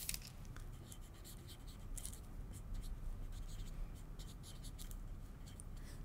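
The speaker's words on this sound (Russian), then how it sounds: "И пишу здесь центр переда сгиб." Faint, close scratching of a pen or pencil writing on a paper sewing pattern, in short irregular strokes over a quiet room background with no speech.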